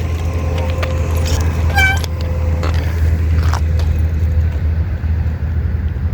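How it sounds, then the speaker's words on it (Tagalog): Cars pass along a roadside, a steady low engine and tire rumble throughout with a brief high squeak or horn-like tone, fairly loud and close. "Dahil na lang kasi yung mga sasakyan, umiikot din sa gilid."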